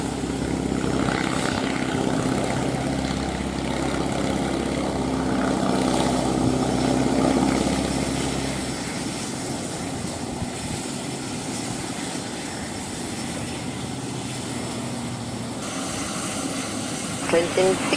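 A Cessna 510 Citation Mustang business jet takes off from Cannes Mandelieu, its loud, steady jet engine roar dominating before gradually thinning and fading into the distance, with some faint radio voices underneath.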